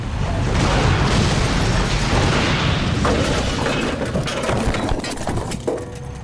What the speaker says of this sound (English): When you hear an explosion, that might be a layer of fire, of glass, of metal,